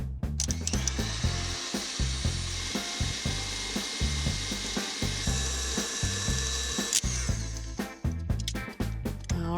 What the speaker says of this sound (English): it's time to whip the egg whites and make a light, fluffy meringue